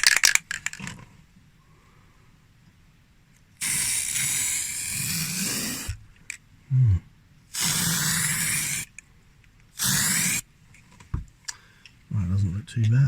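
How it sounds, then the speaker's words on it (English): A spray can coats model railway track sleepers in several loud, close bursts of hissing spray separated by pauses, with brief handling clicks and some speech between. "I have no idea how thick this stuff sprays, so it is just going to be a test."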